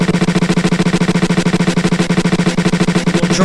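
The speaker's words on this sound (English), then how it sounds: "Drum roll." A rapid, steady drum roll plays as a sound effect, loud and even with quick regular hits for a few seconds, and no one speaks over it.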